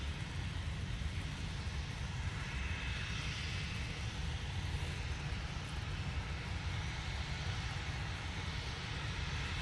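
A TUI Boeing 737 at Manchester Airport, a steady broadband jet engine roar heard from a distance, constant and unbroken with no talking.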